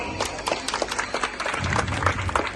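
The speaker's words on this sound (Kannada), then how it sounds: "ಜೋರಾದ ಚಪ್ಪಾಳೆ ಬರಬೇಕು" An audience at a stage event with office-bearers claps steadily, a dense patter of many hands that swells slightly in the second half, with a voice faintly under it.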